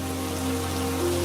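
Heavy rain falls in an animated fairy-tale scene as a steady, even wash of hiss, with faint sustained tones beneath it. It holds at a constant level throughout and no one speaks.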